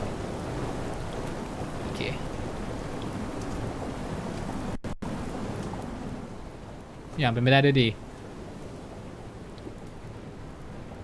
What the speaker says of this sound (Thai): ฝนตกแล้ววะฝนตกแล้ว